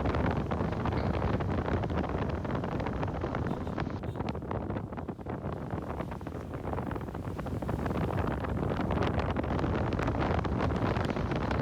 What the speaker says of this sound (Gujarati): પવન ફૂલ છે એટલે મેં થોડું બેકગ્રાઉન્ડ વોઇસ છે ને ડાઉન કરી દીધો છે.